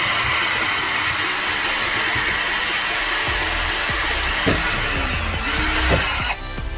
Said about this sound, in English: I'm just going to drill a few holes in there